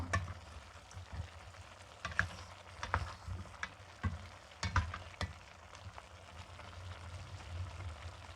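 Sliced onion, red chili and green onion sizzle and fry with braised pork ribs in a little remaining sauce, a spoon stirring and scraping at irregular intervals, fairly quiet throughout.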